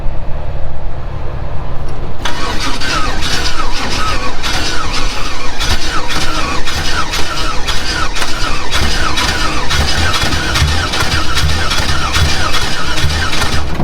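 A damaged LS engine in a 4x4 El Camino runs loud and steady with a harsh, gritty rattle and squeal like worn bearings, a continuous mechanical din after a brief lower-pitched start.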